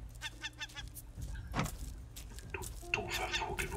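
A bird in the video game Raft gives a series of quick honking calls at the start, with further calls later over a low, steady background hum and faint voice sounds.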